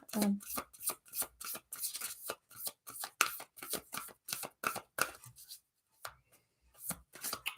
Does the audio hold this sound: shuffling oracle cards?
yes